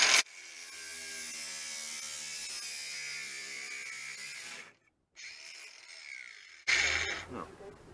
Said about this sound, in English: I'm going to just trim across here and then see what we've got.